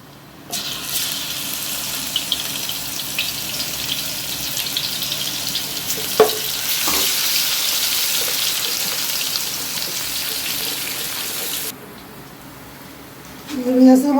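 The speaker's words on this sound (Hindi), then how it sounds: "हम इसमें लहसुन डालेंगे।" Garlic is dropped into hot oil with browned cumin in a kadai in a village kitchen, setting off a loud, steady, close sizzle that holds for about eleven seconds before dropping away.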